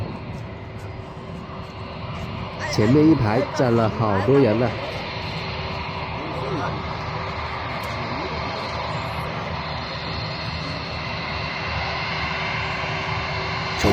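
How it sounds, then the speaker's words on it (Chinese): A Chongqing Airlines Airbus A319 taxis toward the camera at a busy airport, its engines giving a steady, droning roar. Crowd chatter sits underneath, and one person speaks briefly near the start. "重庆航空的空客319正向我们扑面而来"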